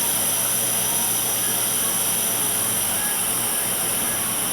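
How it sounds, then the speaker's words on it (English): Butane sputters and hisses while a Dremel Versa Flame torch is being refilled, giving a steady, close, loud rushing hiss that runs unbroken throughout. "you know it's full because it will start sputtering like that"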